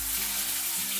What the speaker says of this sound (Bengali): সাথে দিয়ে দেব কেটে ধুয়ে রাখা লাউ